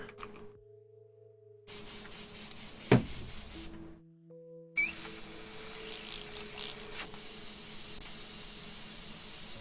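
An airbrush spraying in short bursts while its paint cup is washed out: a quiet hum, then breathy hissing sprays broken by pauses, ending in a loud sustained hiss that eases slightly near the end.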